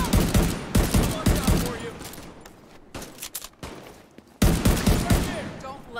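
Bursts of rapid gunfire from a firefight in Tom Clancy's The Division 2, loud and close, with clusters of shots, a quieter lull in the middle, then another heavy volley, mixed with some voices.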